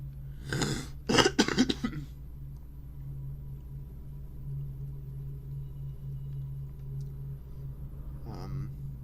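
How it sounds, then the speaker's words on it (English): A few sharp coughs from a young man playing Dishonored, bunched together in quick succession near the start, followed by a low steady hum and a faint throat sound near the end. "Also sorry like if I'm coughing a lot."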